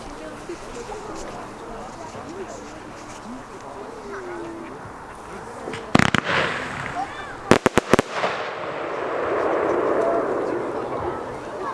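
Several sharp bursts from a firework mine of seven 30 mm tubes firing in one shot crack in quick succession, followed by a lingering crackle and hiss, over a busy outdoor fireworks demo with distant voices.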